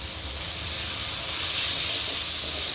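Ginger-garlic and onion paste sizzling in hot oil with fried tomatoes: a steady, loud, close hiss that holds without a break.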